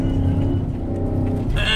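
A car drives on desert dunes near Dubai, its engine a loud, steady rumble heard close from inside a following vehicle, with some wind and rattle noise but no talk.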